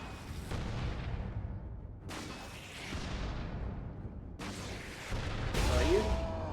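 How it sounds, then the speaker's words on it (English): Lascannon fire in the Space Marine video game: four heavy blasts, each a sharp boom that fades into a long, rumbling tail, arriving at uneven intervals with no talk. "I got my las cannon back."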